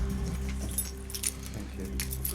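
Keys jangle near a tenant's front door during a landlord eviction visit: faint, brief metallic clinks over a steady low hum, with light background voices.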